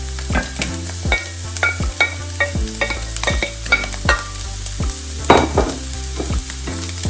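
Chopped onions, garlic and pepper cook in a pan, with a run of sharp, rhythmic knocks and scrapes from a spoon stirring over a bright sizzle, close and fairly loud, with no speech.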